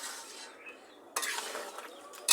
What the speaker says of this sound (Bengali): চিকেনটাকে ভালোভাবে কষিয়ে নেওয়া হচ্ছে।